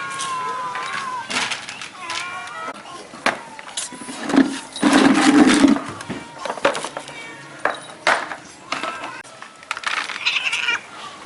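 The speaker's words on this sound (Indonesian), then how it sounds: "memberi makan kucing liar" Stray cats being fed meow repeatedly, several overlapping cries of varying pitch with a louder caterwauling stretch in the middle, close by amid scattered rustling and faint street noise.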